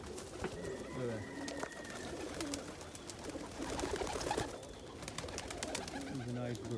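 Pigeons in a loft coo in soft, repeated low rolling calls amid a busy background of fluttering and scuffling, with someone talking over them.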